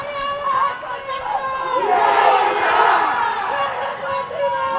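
Audience at a robot contest for Asia-Pacific teams cheering and shouting, a dense crowd roar swelling in the middle, with an announcer's voice over it.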